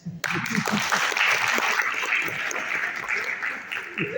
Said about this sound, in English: You need an applause for that.